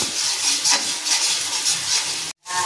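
Onion, garlic and green chillies fry in a pan for a gravy base while a spoon stirs them steadily. A loud, continuous hiss and scraping goes on up to a brief pause near the end.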